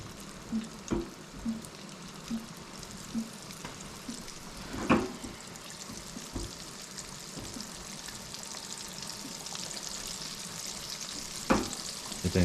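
Snapper fish frying in a pan of hot oil, a steady, soft sizzle throughout with occasional clinks and scrapes of stirring.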